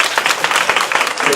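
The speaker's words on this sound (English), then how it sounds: "Let's give a round of applause." Brief burst of lively applause from a breakfast event audience, loud and close with distinct individual claps audible in the wash.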